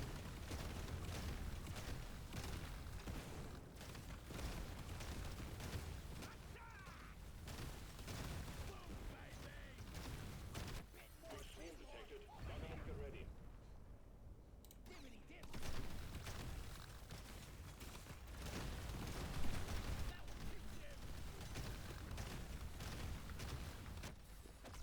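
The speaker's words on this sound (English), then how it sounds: "See how fast we are throwing the grenades?" Grenade explosions from the video game Deep Rock Galactic Survivor burst in dense, rapid succession, a loud crackling barrage of overlapping booms with a brief lull midway, while someone talks over the game sound.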